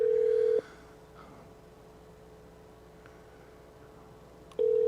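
An outgoing telephone call rings unanswered, two long electronic ringback tones separated by several seconds of low line hiss, steady and clear with no talking.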